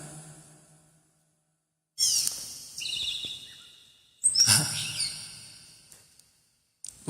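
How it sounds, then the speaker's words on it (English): Birds call at 3 a.m. in a rhythmic pattern, sounding as a few separate bursts with stretches of near silence between them. "I didn't know we had birds at 3 o'clock in the morning."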